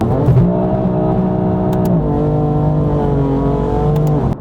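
A BMW M car, a stage 2 F87 M2, pulls hard under acceleration, its loud engine note climbing steadily through the gears with a brief dip at a shift, close and continuous without talk.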